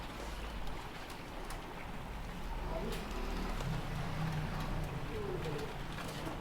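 A Punjabi pigeon with white eyes and red feet coos softly in low, rolling murmurs amid a busy, noisy background of rustling and indistinct market sounds, faint and partly masked.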